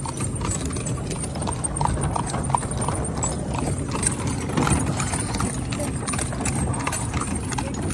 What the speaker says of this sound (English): You like the horse ride?